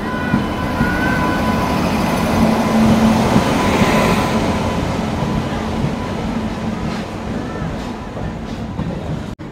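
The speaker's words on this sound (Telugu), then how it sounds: "10 minutes లేట్గా అయితే వచ్చింది ట్రైన్ ప్లాట్ఫామ్ నెంబర్ 2కి" Kondaveedu Express rolling into platform 2 of an Indian railway station, a loud, close rumble of wheels and coaches with metallic squeals, easing off toward the end amid station noise.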